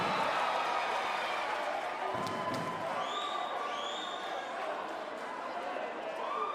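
A home crowd at an Africa Champions Clubs Road to B.A.L. basketball game roars steadily, a dense wash of cheering and noise filling the arena before free throws, with occasional whistles rising over it.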